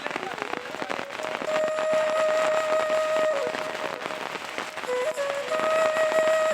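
Rain falls steadily in Chittagong, overlooking buildings. The hiss is loud and continuous, with a sustained tonal hum and a voice underneath.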